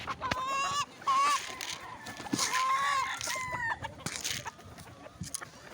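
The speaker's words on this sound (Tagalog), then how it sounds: "Ang mga alagang manok." Several chickens cluck and squawk close by in repeated bursts, with scattered background noise and no clear talking.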